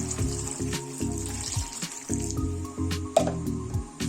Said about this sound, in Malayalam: ഇതിലേക്ക് ആദ്യമായിട്ട് ഒരല്പം വെള്ളം ഒഴിക്കാം